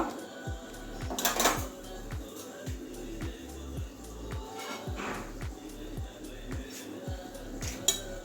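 A metal lid set onto a pan of simmering Malabar spinach greens with papaya in a home kitchen, giving a few clinks and clatters over a steady low bubbling hum.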